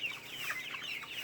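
Lungtaw heritage chickens on a poultry farm, cluttered soft clucking and murmuring fowl calls at moderate distance, quiet and continuous for a moment.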